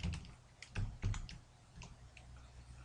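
Someone types a print command in QBasic on a computer keyboard, with a few quick clicky keystrokes in short bursts that sound close but fairly quiet.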